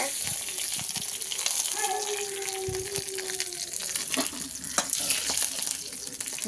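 Hot tempering spits and splutters as it is poured into a pot of buttermilk curry: dense, continuous crackling and sizzling heard close, with brief faint voices beneath.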